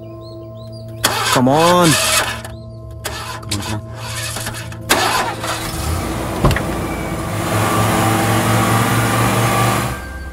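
A car engine cranking and catching at night in a tense moment, rising to a steady idle that keeps running; a short voice calls out briefly over the start.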